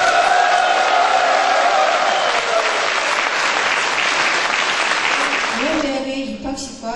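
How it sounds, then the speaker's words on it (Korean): A crowd at an agricultural college graduation ceremony gives sustained, full applause that fades out as a voice begins speaking at the end. "힘찬 감사의 박수를 부탁드리겠습니다."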